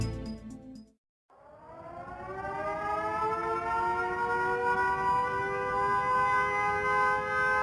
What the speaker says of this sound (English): Sirens sound the alert.